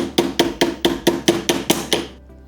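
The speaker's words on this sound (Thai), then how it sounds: "ค่อยๆตอกนะ ตอกอัดให้มันออกไปอีกฝั่งอ่ะ" Hammer driving a small bolt against the shaft of a Hatari Slide Smart L1 18-inch electric fan to push it out, eight sharp metallic taps in a steady rhythm, close and loud, with no talking.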